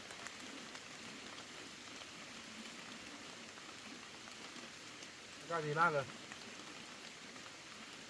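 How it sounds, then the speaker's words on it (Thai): Steady rain falls in a soft, continuous hiss throughout, while a voice briefly speaks partway through. "ฝนตกเย็นชุ่มฉ่ำ"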